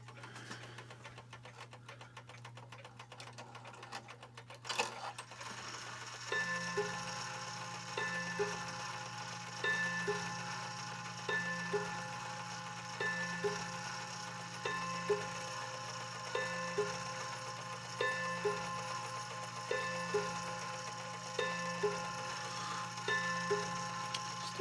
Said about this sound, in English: I'm gonna trip the chime again.